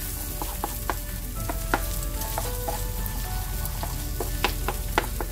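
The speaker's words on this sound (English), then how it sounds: "start scrambling the egg." Eggs seasoned with salt and pepper scramble and fry in a pan alongside tomato, giving a continuous loud sizzle broken by repeated sharp clicks and scrapes of a utensil against the pan.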